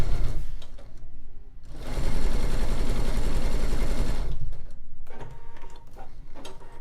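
A sewing machine runs through batik quilt fabric in a close, loud, rapid stitching burst of about two seconds, framed by quieter handling and mechanical clicks.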